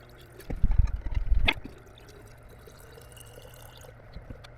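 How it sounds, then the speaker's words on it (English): Water pours and splashes into a mason jar aquarium holding gravel, a close burst of gurgling for about a second, followed by faint trickling and drips. "Now I can keep filling it up with water."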